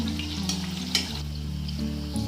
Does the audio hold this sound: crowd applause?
no